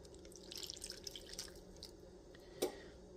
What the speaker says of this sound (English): pour it over the shrimp.